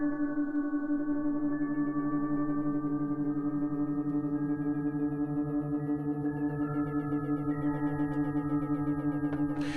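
Sustained synth tones pass through a delay whose time is slowly modulated by an LFO, the wavering gradually deepening over a steady, even drone with no voices.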